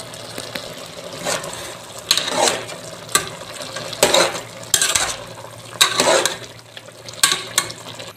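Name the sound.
stirring Malabar spinach and rohu fish in a pot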